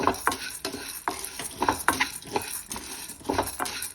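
Lentils are dry-roasted in a pan, a spoon scraping and stirring them in a quick, uneven rhythm of close rustles and light taps, with a faint sizzle underneath and no talking.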